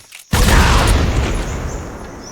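A barrel blows up in Metal Gear Solid 3 with a sudden loud boom after a brief quiet moment, then a long rumbling, crackling tail that slowly fades.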